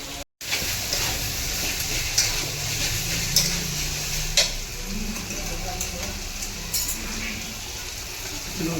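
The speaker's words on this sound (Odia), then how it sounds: "ମାଛ ଭଜା ଚାଲିଛି" Fish frying in a pan in a home kitchen, a continuous crackling sizzle with occasional sharp pops and light utensil ticks, while a voice talks over it.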